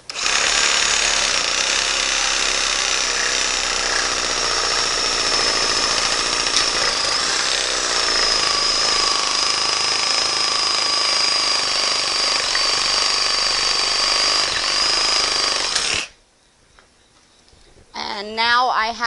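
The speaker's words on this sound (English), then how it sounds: "So I have a sawzall." A sawzall reciprocating saw cuts through wood in one long, loud, buzzing run for about sixteen seconds, then stops abruptly, followed by a short quiet gap and the start of another burst.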